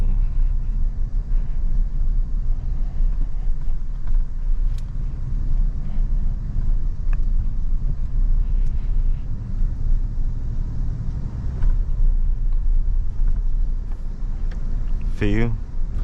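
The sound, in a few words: 2024 Toyota Tundra TRD Pro driving over speed humps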